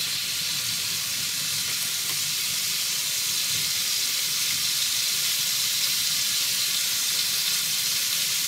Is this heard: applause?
no